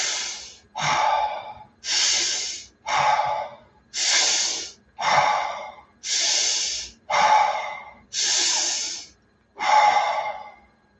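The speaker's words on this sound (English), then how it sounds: "Nice deep breath." Slow, deep breathing during a guided meditation: about ten long, breathy inhales and exhales in a steady rhythm, each clearly separated by a short pause, close and fairly loud.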